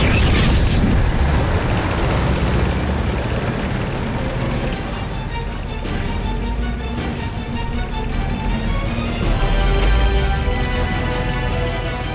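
A bridge being blown up with explosives in a wartime drama: loud, sustained rumbling blast with crackling bursts that holds steady throughout, swelling again near the end.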